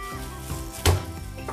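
A single sharp crushing thump from a thumb-sized piece of washed, cut ginger being smashed flat for a spice paste, one brief impact over a low, steady kitchen background.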